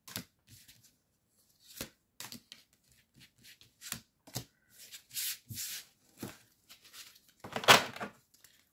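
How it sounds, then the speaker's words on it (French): Oracle cards shuffled and drawn from a deck, a series of soft riffling and flicking bursts with short pauses between, close and quiet in an otherwise silent room. "On va prendre 5 cartes."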